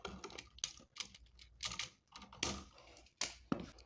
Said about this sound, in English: Grab your wire cutters. Cut each wire off from the back.